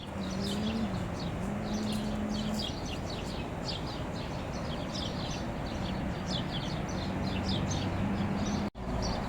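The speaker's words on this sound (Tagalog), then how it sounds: "May ingay lang po ang huni ng mga ibon at saka mga sasakyan guys." Evening birdsong from a yard in summer: many small birds chirp and twitter steadily over a constant wash of nearby traffic noise, with a faint low hum underneath.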